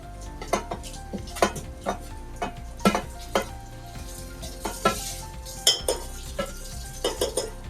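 Coconut paste is stirred and fried into cooked onion paste for a home-style mutton dish, with a constant sizzle broken by rhythmic clanks and scrapes of a spoon against the pot, close and clear.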